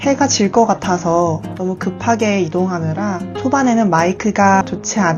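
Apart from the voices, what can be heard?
No everyday noise stands out behind the speech.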